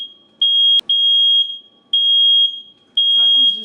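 A smoke alarm goes off during an early-morning home seafood boil, giving loud, piercing beeps in repeated long bursts, very close, and a voice speaks briefly near the end.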